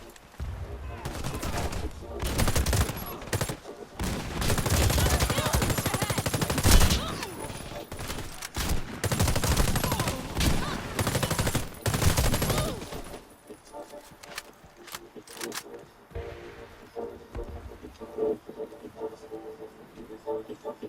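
Rapid automatic gunfire from a recoiling rifle in the Warface shooter game, loud dense bursts filling the first half, then sparser scattered shots and effects, with a player's voice talking over parts.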